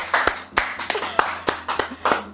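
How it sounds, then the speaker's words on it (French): Applause for a male guest on a French sports podcast: a few distinct, sharp hand claps spaced irregularly, close and fairly dry, with a faint voice murmuring underneath. "Applaudissements nombreux."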